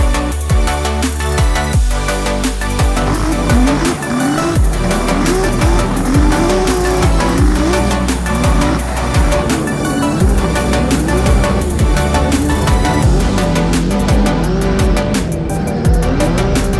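Race car engines rev and roar continuously, rising and falling in pitch as the cars accelerate and shift, loud and close without letup.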